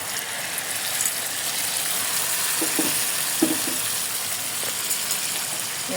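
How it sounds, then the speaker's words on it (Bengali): Taro paste sizzles and fries in a pan with a steady, close hiss, broken by a few soft scraping stirs and light clinks, and no voices are heard. "এবার কচুটাকে এখানে ঢেলে দিবে।"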